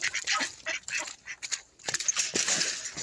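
A female Toulouse goose honks and cackles in a run of loud, irregular calls close by, with short pauses between bursts.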